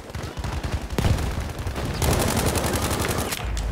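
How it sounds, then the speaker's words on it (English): Assault rifle fire in Battlefield V, rapid loud bursts up close, a rattling run followed by a denser sustained stretch of automatic shots amid battle noise. "This assault rifle ain't half bad."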